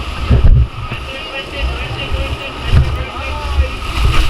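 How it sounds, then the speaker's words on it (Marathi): Strong gusts of wind at a hill-station viewpoint in Matheran buffet the microphone in heavy low thumps, with people talking faintly underneath. "इथे मित्रांनो जबरदस्त वारा आहे"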